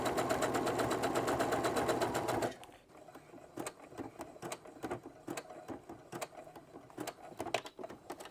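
A sewing machine stitches a zigzag seam on children's underpants, running in a fast, loud, rhythmic chatter for about two and a half seconds before stopping, followed by scattered quiet clicks and handling sounds.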